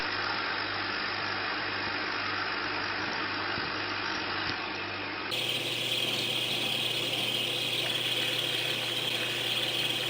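A hybrid car runs steadily on its electric motor, then the tone shifts abruptly partway through as the rougher combustion engine takes over, running on at an even level.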